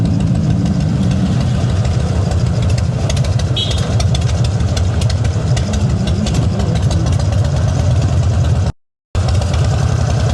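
A custom chopper motorcycle idles in slow, congested afternoon traffic in Pamulang, Indonesia, its engine a close, steady low thumping loop with a brief dropout near the end, with someone talking over it.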